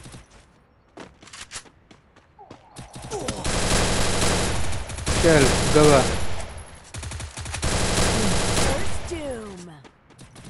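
Sustained bursts of automatic gunfire in the mobile game Free Fire Max, rapid and loud in long stretches separated by short pauses, with excited voices talking over the shooting.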